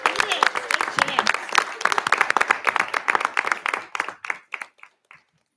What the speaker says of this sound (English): what a round of applause